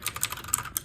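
Quick keystrokes clatter on a budget MageGee mechanical keyboard, a brief run of crisp clicky taps heard up close and alone.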